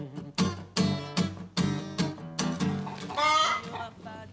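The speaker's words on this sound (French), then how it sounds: "Elles sont à toi, les poules?" Chickens clucking in a steady rhythm of repeated calls, fairly close, with a louder rising squawk near the end; no talk in the clip.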